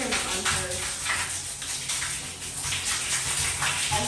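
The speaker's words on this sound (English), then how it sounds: "So guys, we're gonna shower." A shower runs with a continuous loud hiss of spraying water, steady and close, without pauses for its full length.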